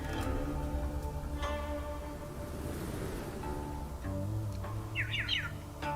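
A bird chirps in the video game Wuthering Waves, a quick run of bright, faint tweets near the end over a steady bed of game music and ambient sound.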